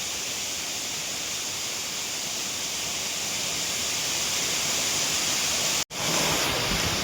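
Rushing water from a hidden waterfall swollen by the rainy season, a loud, steady broadband roar that fills the whole stretch, with a brief dropout just before the end.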